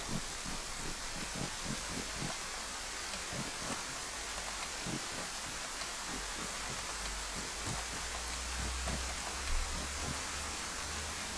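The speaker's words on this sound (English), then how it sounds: "So the good news is it's raining" Steady rain falls in the survival video game DayZ, a continuous even hiss with soft scattered patter and faint rustling, no voices.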